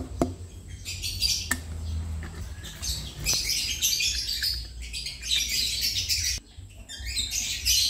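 Pet birds kept in a breeding cage chirp and squawk continuously in a busy, overlapping chatter, close and fairly faint, with occasional soft clicks and knocks.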